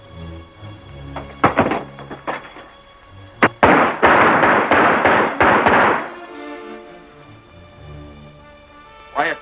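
Gunshots in a 1934 John Wayne western: a rapid volley of loud, sharp cracks bunched together mid-clip, with a few scattered shots before and one last bang at the end, set against music and action noise.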